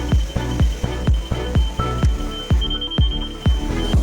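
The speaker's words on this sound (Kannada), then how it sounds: "ಅಲಾರಾಮ್ ಬರ್ತದೆ." An alarm beeps loudly and evenly, with a sharp tone repeating about twice a second. The sound is steady and nearby, with no voices.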